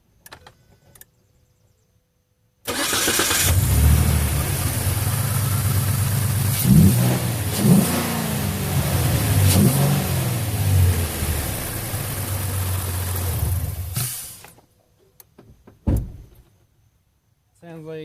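A Ford F-150 with a 3.7 V6 and an AFE Magnum Force Pro dry cold air intake starts up and idles with a steady, loud low rumble, then a few revs surge and drop before it shuts off, with brief clicks around it.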